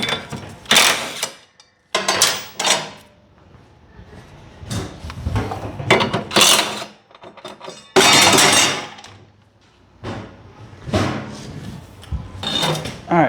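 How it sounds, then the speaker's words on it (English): A socket wrench on a 15/16 nut holding the blade of a Murray MT100 riding mower, heard as bursts of clicking ratchet and metallic clanks separated by pauses, close and fairly loud. "You need a 15/16 socket to fit this nut, and it's lefty loosey, righty tighty."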